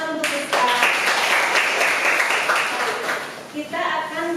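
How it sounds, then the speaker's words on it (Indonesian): Classroom applause for a student at an Indonesian school, a dense burst of clapping from a group lasting several seconds near the mic, fading briefly before a teacher's voice returns. "Tepuk tangan untuk Rizka"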